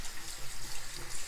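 Tap water runs steadily into a sink while a makeup brush coated in oil makeup remover is rinsed against a strainer, a close, even hiss with slight splashing fluctuations and no talking.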